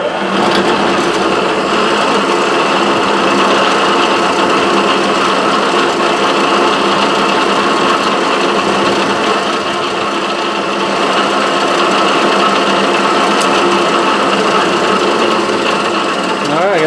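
An Atlas metal shaper runs steadily, giving a continuous mechanical whir and rattling hum at an even level for the whole stretch, close up and without pauses.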